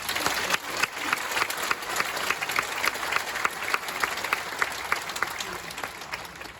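A hall audience at a provincial briefing in Iksan claps in a sustained, dense burst of applause, fairly loud and even throughout, with a few sharper individual claps standing out and no speech over it.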